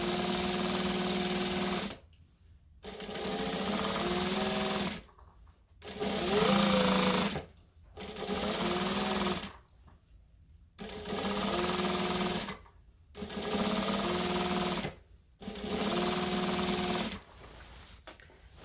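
A sewing machine stitches a jacket seam in six or seven bursts of rapid mechanical chatter, each a couple of seconds long and separated by short pauses, close and clear.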